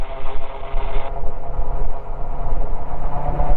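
Light aircraft engine pulling hard at takeoff power on a grass airstrip, a loud, steady droning roar with a strong low rumble that holds constant throughout, no voices over it.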